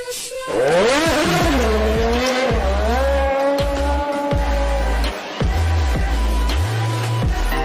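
Race cars speed past loudly with rising, sweeping engine whines, revving and tire squeals, several vehicles overlapping into a continuous roar.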